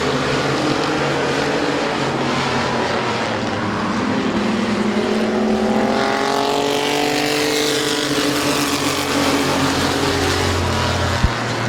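Race cars roar around the Midvale Speedway oval, a dense continuous engine drone with a rising whine as one car passes close by, loud and steady with no talk.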